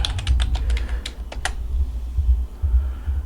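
Quick bursts of computer keyboard typing, a handful of close, crisp key clicks in the first second and a half, then a low background hum with no talking.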